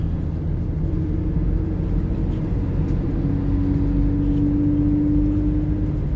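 A steady low interior rumble from a car being driven, with constant road and engine drone heard close and fairly loud, plus a faint sustained whine rising in the second half and no talking.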